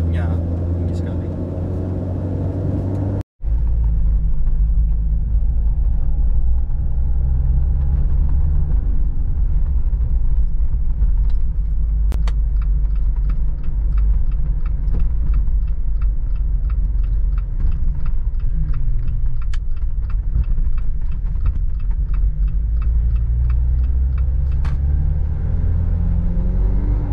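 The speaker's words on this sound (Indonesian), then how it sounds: "enak suara knalpotnya merek Purla ini" Jeep Rubicon JL 2020 with a 2.0-liter turbo engine and Purla exhaust, a deep steady rumble from the idling engine and exhaust filling the clip after a brief cut, loud and close, with no talk over it.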